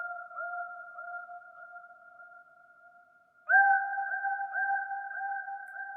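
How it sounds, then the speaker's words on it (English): A synthesized effect tone from the Electra X synthesizer, used in an ATL-style trap beat, holds as two steady pure pitches, fading slightly before jumping louder and a little higher partway through, with no voices. "the next sound is gonna be the effect sound from Electra X"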